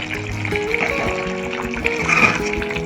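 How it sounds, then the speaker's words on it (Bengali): Hot water poured into a pot of browned chicken, a steady watery rush and trickle running close and continuous for a few seconds, with no talk over it. "এবার একটু নাড়িয়ে ছাড়িয়ে ওই গরম জলটা দিয়ে দেবো।"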